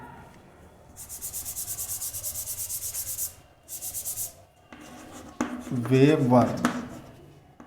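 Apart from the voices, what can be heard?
chalk writing on a blackboard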